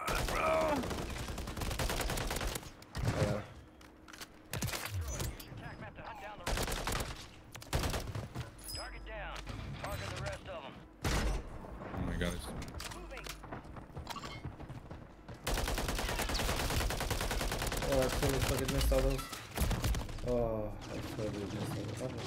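Gunfire rattles through a Call of Duty: Warzone match in bursts of rapid shots with pauses between them, over a long stretch, fairly close, while players talk throughout.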